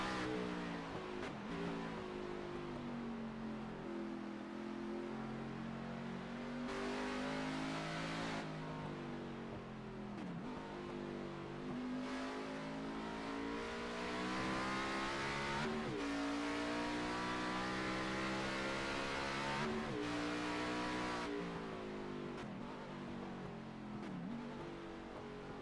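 Race car engine in a sim racing video game, throttle feathered around a banked carousel corner as the car gets loose; continuous loud engine note rising and dipping in repeated waves with brief lifts, no talk.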